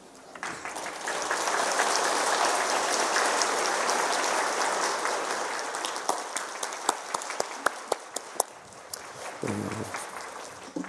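A church congregation applauds warmly during a Sunday daytime worship service, a steady wash of many hands clapping that builds, holds for several seconds, then thins into scattered individual claps near the end.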